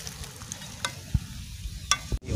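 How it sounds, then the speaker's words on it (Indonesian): Cassava pieces frying in hot oil give a soft, steady sizzle with a few scraping stirs and clinks, close and alone with no voices. "Guys, singkong gorengnya sudah matang. Yang kita angkat nih, guys."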